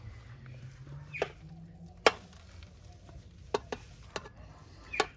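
Thick boiled fruit cake batter scraped from a saucepan into a cake tin over a camp oven, with several sharp scrapes and clunks of a spoon against metal over a low background hiss.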